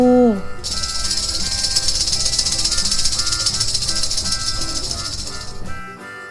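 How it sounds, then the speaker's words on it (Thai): A snake's sustained hissing rattle, steady and fairly loud for about five seconds before cutting off, following a brief animal grunt at the start. "งู"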